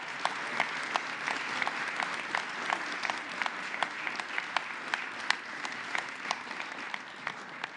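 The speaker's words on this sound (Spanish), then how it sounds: "Un fuerte aplauso para todas ellas" A crowd applauds steadily and loudly, with a dense patter of many hands and a few sharper claps standing out, and no talking over it.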